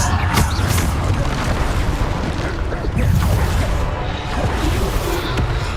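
Booming spell blasts from the Bombarda curse in the video game Hogwarts Legacy, loud and continuous with dense low rumbling, crackles and repeated bursts, while a voice speaks intermittently over the combat.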